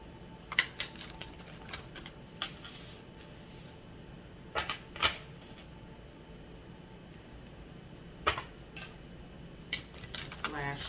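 A deck of cards is shuffled by hand in a few separate bursts of quick riffling clicks and flutters, close and fairly quiet, with a faint voice and soft room hum between them.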